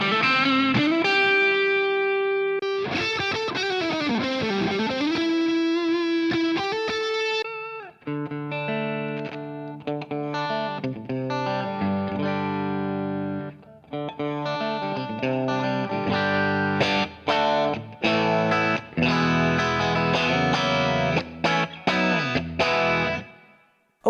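An electric guitar is played through a stock IK Multimedia preset on a ToneX Plug, giving a distorted, effects-laden tone. Sustained notes with pitch bends lead into chordal and riffing passages, loud and up close, with no voices.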